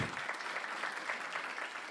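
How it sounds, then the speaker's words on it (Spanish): Seminar audience applauding after a talk, a faint but continuous patter of clapping from a modest group. "Aplauso."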